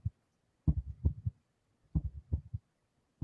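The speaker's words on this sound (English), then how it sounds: "It's like a heartbeat." A heartbeat sound effect thumps out in deep, close double beats, repeating steadily in groups with short silent gaps between them.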